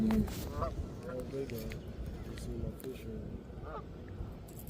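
Geese honk repeatedly in the distance over a steady outdoor background at a waterside bank, with a few calls standing out clearly as they fly over the water.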